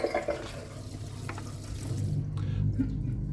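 A dishwasher pumps out its water, giving a steady rushing, gurgling drain flow that grows slightly louder and fuller toward the end, with no talking.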